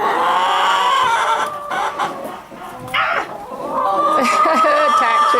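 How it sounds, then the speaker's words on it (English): Small chickens cluck and squawk inside a chicken coop, a busy, continuous, close chorus while people talk over them throughout. "Oh, this chicken."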